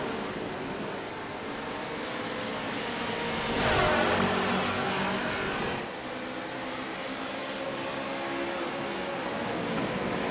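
Race cars in iRacing lapping Atlanta Motor Speedway, with three cars side by side: a steady broadband engine and tire roar that swells briefly as the pack passes, then settles into a continuous drone.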